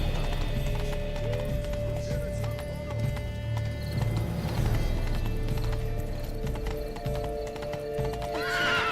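Horse hooves pound in a steady galloping clip-clop through a Witcher 3 game scene, with a neigh near the end and faint game sounds underneath.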